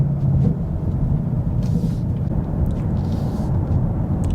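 A 2022 Ford Mustang GT with a six-speed manual is driven, and its engine gives a loud, steady low rumble heard from inside the car.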